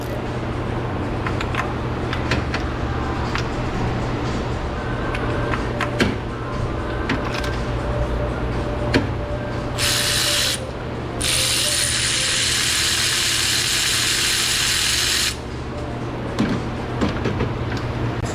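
Ratchet fitted with wobble extensions working a spark plug loose on a high-mileage 300k-mile Ford Escape 3.0 V6, giving steady close clicking through most of the stretch, with a brighter, harsher burst of ratcheting in the middle.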